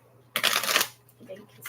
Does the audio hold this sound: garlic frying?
no